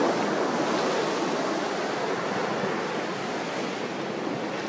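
Ocean waves break on a beach in a continuous, loud wash of surf, steady and close with no pauses, and no voices are heard.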